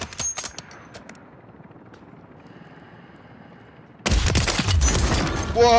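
Gunfire in the video game Warzone, with a burst of sharp shots at the start, a quieter stretch of ambient noise, then a loud dense blast of shots and booms toward the end.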